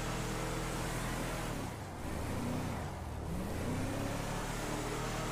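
A car engine in the video game GTA V revs and drones loudly and continuously, rising and falling in pitch with a couple of brief dips, and no voices are present.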